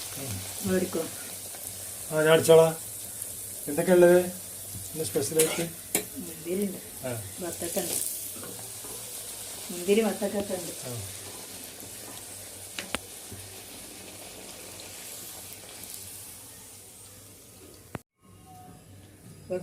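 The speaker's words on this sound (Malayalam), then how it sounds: "ഇവിടെ എണ്ണ തിളച്ച വരെയുണ്ട് ഇപ്പോൾ പൊരിച്ചെടുക്കുക" Steady hissing sizzle of puris frying in boiling oil runs throughout, with a person talking intermittently over it.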